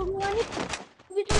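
Rapid video game gunfire in a two-versus-two Clash battle, with bursts of shots mixed with an excited voice talking over them, then a short lull before another loud burst.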